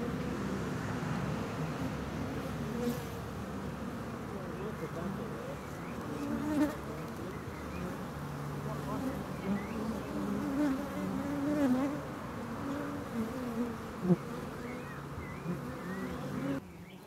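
Honeybees buzzing inside a hive, a soft, continuous droning hum from many insects with occasional louder passes of individual bees close to the microphone.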